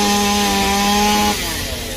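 A chainsaw roars steadily at close range, then its pitch drops and the engine tone roughens as it cuts through a branch of a Dau tree beside an old iron fence.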